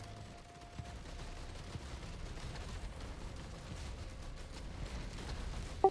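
Continuous gunfire and combat noise from the video game Risk of Rain 2, a dense steady rattle of shots with occasional sharper bursts, fairly quiet throughout and with no talking.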